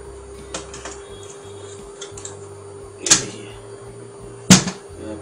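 A rear sensor plate is fitted into a Brother HL-2130 laser printer during reassembly, giving two sharp, close plastic clicks as it snaps into place, with lighter taps and handling noise in between.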